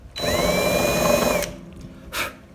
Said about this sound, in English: he begins to drill